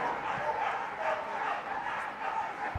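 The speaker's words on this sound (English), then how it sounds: "barking away happily" Dogs, including a Labrador, bark excitedly at the flyball team quarter-finals at Crufts 2016, repeated yaps over crowd noise and commentary.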